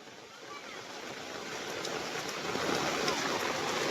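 A swollen rainwater stream rushes past during the monsoon, a continuous broadband gush of flowing water that grows slightly louder, heard close by without talk.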